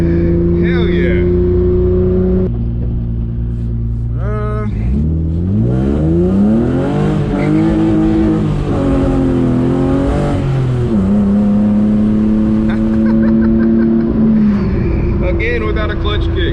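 A BMW E36 sedan with a welded differential revs and accelerates hard, its engine note climbing and falling through sustained loud pulls close by, while people talk and cheer over it.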